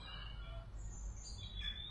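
Several birds chirp faintly in the distance as daylight fades, with thin high calls scattered over a steady low rumble of background noise.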